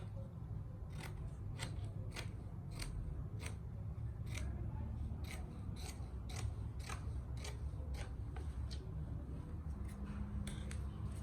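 Scissors cutting fabric for a women's jacket make a close, steady series of about twenty crisp snips in an even rhythm over a low background hum.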